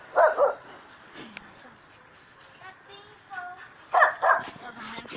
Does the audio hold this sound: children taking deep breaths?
no